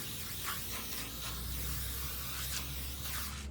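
Insect spray hisses steadily against mosquitoes in short bursts, a continuous broadband aerosol spray heard close up for the whole stretch.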